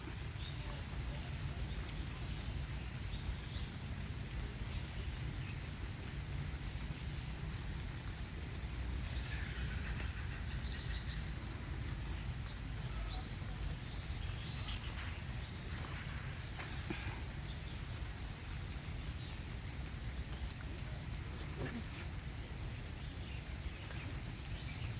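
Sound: rain falling

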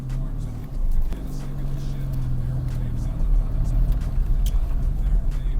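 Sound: ZAZ Sens or Daewoo Lanos car pulling away in first gear

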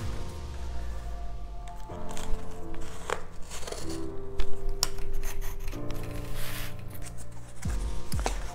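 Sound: cutting into a book's cardboard cover to make a book safe

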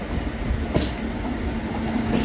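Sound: Saraighat Express train entering Howrah station

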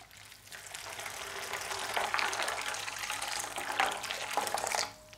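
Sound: boiling kettle water poured over peeled pistachios

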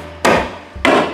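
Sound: Harbor Freight staple hammer stapling tar paper

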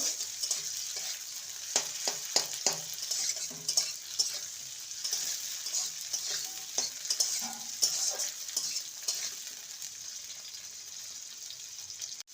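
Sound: frying capsicum, tomato and onion in a pan

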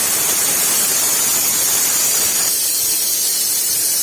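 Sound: mixer grinder grinding dry spice paste without water

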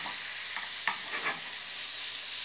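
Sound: tomatoes frying and being stirred with fried potatoes

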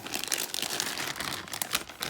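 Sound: Japanese figure being unwrapped from plastic bag

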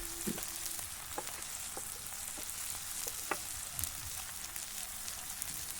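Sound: karimeen (pearl spot) fish frying in pan

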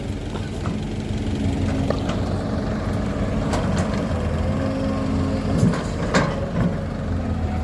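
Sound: excavator engine running

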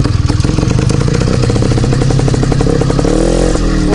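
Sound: motorcycle engine running

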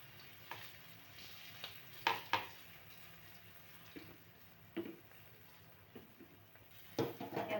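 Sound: surmai fish pieces frying in a pan

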